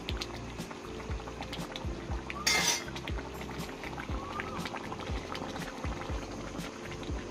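Chicken curry simmering in a pot over the flame, heard as steady close bubbling and popping with a brief metallic clink of a utensil partway through, no talking.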